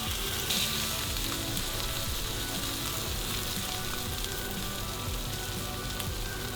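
Steak frying in butter in a hot pan gives off a steady, loud, crackling sizzle that holds evenly from start to finish, with no voices.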